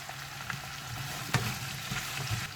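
Sliced onions with a little salt fry in a pan for an egg roast, with a quiet continuous sizzle broken by a few close scraping stirs and clacks and no one talking.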